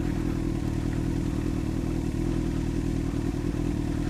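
Motorcycle ridden slowly through snow on a bumpy road in second gear with the clutch barely let out, a steady close engine drone with clattering and scraping underneath, no talk.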